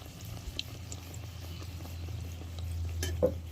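Kachori frying slowly in oil gives a soft, low bubbling sizzle with occasional light scrapes of a utensil against the pan, close and steady throughout.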